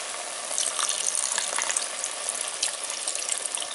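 Eight cups of vegetable stock pour steadily into a pot of French onion soup, a continuous bright splashing and sizzling wash that runs unbroken for several seconds with no talking.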